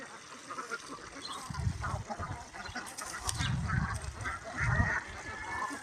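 A flock of farmed ducks foraging in a muddy, flooded paddy field among fallen grain, snails and algae, giving repeated low quacks in clustered bursts over a steady outdoor background hiss.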